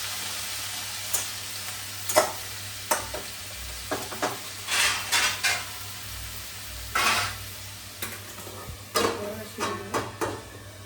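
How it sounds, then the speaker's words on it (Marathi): Noodles cooking in a pan over low gas, giving a soft, steady sizzle with scattered clinks and scrapes of a utensil against the pan, close by and without talk. "आता थोडा वेळ शिजू दे."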